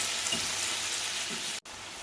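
Porcupine meatballs frying in a pan, a steady close sizzle with a couple of soft stirring touches and a brief dropout near the end, no talk.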